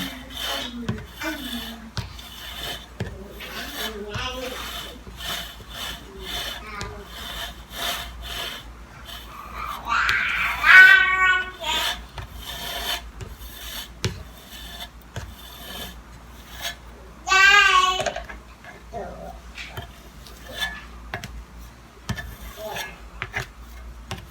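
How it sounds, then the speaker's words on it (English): A spatula or scraper spreading chocolate buttercream onto a chocolate cake and scraping it back off, giving repeated close, raspy rubbing strokes with occasional louder scrapes, no talking. "we're basically wanting to rub it on and then rub it right back off again so that it has little patches of icing"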